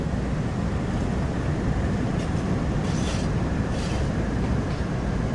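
Continuous low rumble and steady rolling noise of a train moving through San Bernardino toward Barstow in a train simulator game, even and unbroken throughout with no talk.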